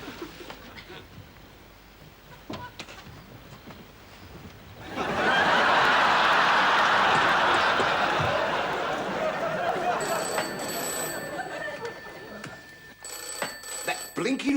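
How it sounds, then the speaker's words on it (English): A telephone rings insistently under murmuring voices and room noise, the ring swelling loud in the middle and carrying on in repeated trills toward the end. "that blinking phone has never stopped ringing all morning"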